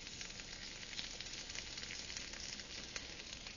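Apples dusted with cinnamon sugar sizzle steadily in a hot pan, a close, even frying hiss with faint crackles, no voices.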